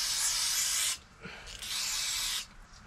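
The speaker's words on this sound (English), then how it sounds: "Brake clean." Brake cleaner blasts from an aerosol can onto Honda Dio AF18 scooter axle parts in two loud, steady hissing sprays, the first about a second long, then a short pause and a longer second burst.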